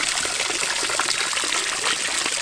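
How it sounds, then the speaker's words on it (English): A garden pond waterfall trickling and splashing continuously, a bright steady watery hiss close by with no voices over it. "Let's take a peek at that waterfall and just enjoy it for a moment."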